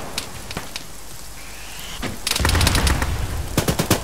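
Gunfire in the military shooter game Arma, a few scattered shots at first, then a dense close burst of rapid automatic fire with sharp cracks.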